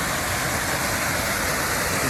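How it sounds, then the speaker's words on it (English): Big flow of water pouring over a waterfall, a steady, loud, broadband roar close by that fills the whole moment without pause, with no voices. "that's the waterfall there"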